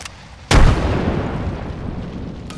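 A frag grenade detonates in Apex Legends with one loud, close boom followed by a long rumbling decay, and a faint sharp pop near the end.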